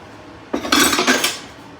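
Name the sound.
dishes and pots being moved and stacked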